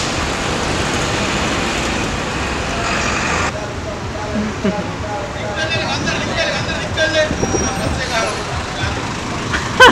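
Busy Colombo street traffic with colorful buses passing, a steady roadway roar of engines and tires with occasional horns, heard close by beneath people talking.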